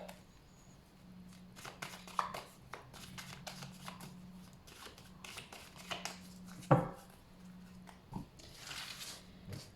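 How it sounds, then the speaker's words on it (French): Oracle cards spread out across a table: a quiet series of soft slides, taps and shuffling rustles with brief pauses, heard close and faint. "on va pousser un petit peu tout ça pour que j'ai de la place pour étaler les cartes"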